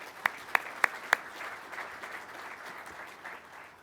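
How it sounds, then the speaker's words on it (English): At an Air Force undergraduate pilot training graduation ceremony, a few sharp, separate claps ring out first, then swell into a soft, distant round of applause from the seated audience. "Please, a big round of applause for all of our attendees today."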